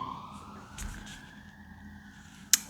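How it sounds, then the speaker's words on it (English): A faint siren wails in the distance, its pitch rising and holding, ending with a sharp click nearby. "Sirens blowing there, blues and twos."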